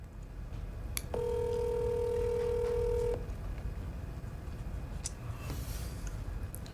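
A telephone call placed for a prank call, with a single steady electronic ring tone lasting about two seconds over quiet room noise, followed by faint clicks.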